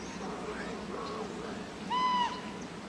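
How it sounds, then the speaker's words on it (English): A raven calls over Yellowknife Bay in the quiet morning, a few resonant, croaking notes near the end above a low steady ambient hum, moderately distant. "The raven's call."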